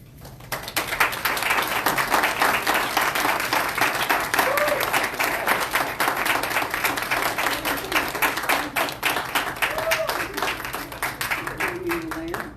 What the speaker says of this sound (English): what wonderful that you can applaud them